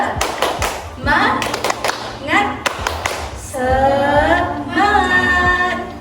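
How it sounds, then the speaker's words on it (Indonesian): A classroom of students claps a rhythmic cheer, sharp bursts of hand claps in patterned groups, interrupted by pauses and mixed with loud chanting voices of the class. "Oke, kita tepuk semangat dulu. Tepuk semangat."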